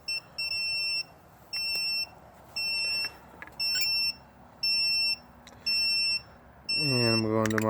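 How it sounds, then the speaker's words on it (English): Buzzer on a tiny 2S QX90 micro quadcopter beeps in six even, loud pulses of about half a second each, followed by a rising electronic whine at the end. "This one does have a buzzer, so you'll hear that buzzer right off the bat."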